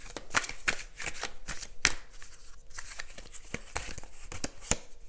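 Tarot cards are shuffled and drawn by hand, a close run of crisp riffling snaps and slides with sharp flicks at irregular intervals, no talking.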